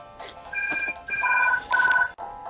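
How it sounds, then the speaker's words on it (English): An electronic phone ringtone in the SpongeBob Truth or Square game for the DS chirps in three short warbling bursts, clear and fairly close, with a brief trailing tone after. "And the phone is ringing."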